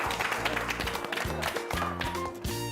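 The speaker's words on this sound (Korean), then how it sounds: "박수 주시죠." Audience applause at a Korean TV show commentary session, dense steady clapping filling the whole stretch alongside background music.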